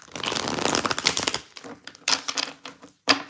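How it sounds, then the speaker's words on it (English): A deck of cards is shuffled up close: a dense riffling flutter of rapid snapping cards, then a few shorter riffles and bridges separated by brief silences. "Another shuffle."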